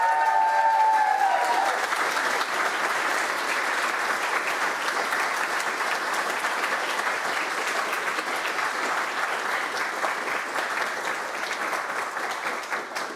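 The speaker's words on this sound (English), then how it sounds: "an enormous round of applause again for Rafi Hull" Sustained applause from a quiz competition audience, a dense wash of clapping that holds steady for several seconds before tapering slightly toward the end.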